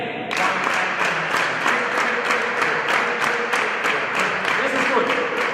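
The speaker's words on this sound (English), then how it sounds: "Then you maybe can clap better." A crowd of ballroom lecture participants claps in unison to a steady rhythm, loud and evenly spaced, with a busy murmur of voices and music underneath.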